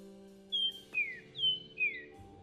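A cartoon character whistles an imitation of bird chirping: four short, clear two-note chirps in an evenly spaced rhythm over a quiet steady background hum.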